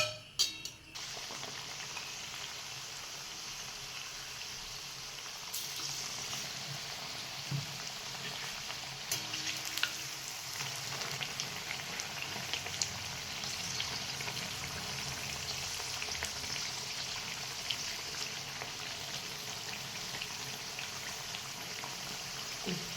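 Potato bhaji sizzle in hot oil, a steady, soft crackling and bubbling that runs on with no talk, fairly quiet and close, with faint sharper pops scattered through.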